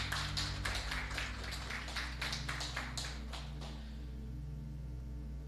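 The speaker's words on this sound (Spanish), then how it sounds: "Denle un fuerte aplauso al Señor" A church congregation claps for a few seconds, the faint, uneven bursts of applause riding over a low electrical hum before dying away, leaving only the hum.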